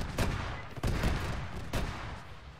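Airsoft guns fire in bursts during a field training exercise, with three sharp volleys of cracking shots over steady outdoor noise at moderate distance.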